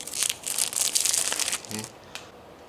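Thin plastic film is peeled off a new golf driver grip, giving bursts of crisp crinkling and rustling up close, with a brief thump near the end before the sound fades to quiet.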